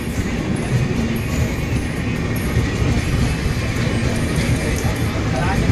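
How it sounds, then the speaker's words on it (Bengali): The Malwa Superfast Express rushes past on the adjacent track at Kurukshetra Junction, a continuous loud rumble and wheel clatter close by for several seconds, with people talking over it. "এখানে আমাদেরকে পাস করবে মালবা সুপারফাস্ট সাইড দিয়ে কিন্তু বেরিয়ে যাচ্ছে মালবা সুপারফাস্ট"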